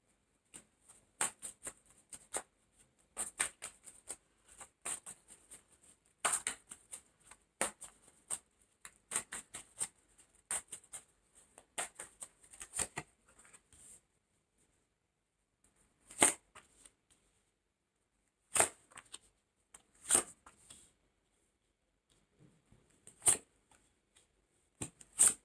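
Tarot cards are shuffled by hand in quick, soft riffling bursts, busy at first and then thinning out to scattered single flicks with quiet gaps between.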